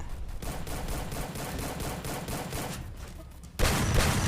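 Rapid automatic gunfire in the mobile battle game Free Fire, a dense steady stream of shots for several seconds that swells louder near the end, with no talking.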